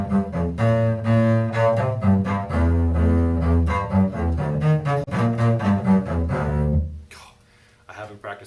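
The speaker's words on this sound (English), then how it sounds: "But that's the sound of the bass." A bowed bass plays a run of sustained, resonant low notes in steady succession, loud and close, then cuts off into near silence at the end.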